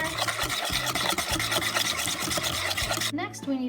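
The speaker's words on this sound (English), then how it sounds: "Now we're going to whisk these together." A whisk beats half-and-half and custard ingredients for a bread pudding in a bowl, a quick, rhythmic scraping and rubbing close up that stops abruptly near the end.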